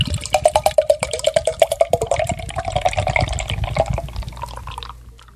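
Abita Hop 99 beer pours from a can into a glass, a close, steady gurgling glug of liquid with a rhythmic splashing pulse that gradually smooths and tapers off near the end.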